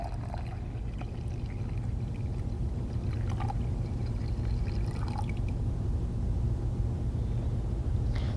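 Water poured steadily and evenly over soil in a container, a continuous low rushing pour that runs unbroken from start to finish, with a few faint clinks and taps on top.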